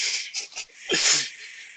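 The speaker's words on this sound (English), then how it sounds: "I hear you breathing" Breathing close to a microphone during a wrestling review podcast, heard as soft, breathy hissing puffs that swell and fade, with a heavier exhale near the middle.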